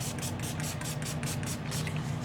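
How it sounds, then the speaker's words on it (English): Repeated short hissing spritzes from a spray bottle misting a resin mold, about a dozen quick bursts in steady rhythm, close and fairly quiet over a low steady hum. "I'm just going to spritz it"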